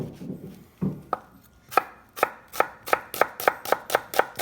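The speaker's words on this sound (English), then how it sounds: "I'm just going to slice up half of a large shallot" A knife slices half of a large shallot on a cutting board, a few uneven cuts first and then a fast, regular series of sharp taps, close and crisp with no talking.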